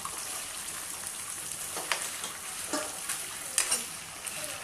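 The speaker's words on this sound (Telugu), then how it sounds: "ఇదిగోండి లివర్ ఇట్లా వేసేసుకొని కొంచెం లైట్గా ఫ్రై చేసుకోండి" Chicken liver fries lightly in hot oil, giving a soft, continuous crackle like light rain, broken by a few sharper pops and scrapes of stirring, with no talking.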